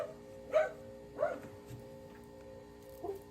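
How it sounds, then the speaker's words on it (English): Two short dog barks sound a moment apart, fairly distant, followed by a quieter third bark after a pause. "You hear my dogs?"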